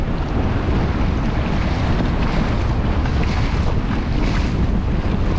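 A Bonafide P127 motorized kayak runs at 60% throttle on rough water under a small craft advisory, heard as a steady, loud wash of wind buffeting and churning water with no clear engine note standing out.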